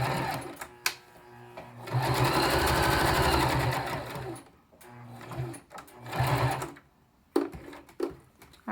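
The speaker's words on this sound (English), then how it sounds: "I have sewn all of those little pocket openings" A sewing machine stitches the small pocket openings on fabric face masks in several separate runs of close, rhythmic whirring, with soft handling sounds between them.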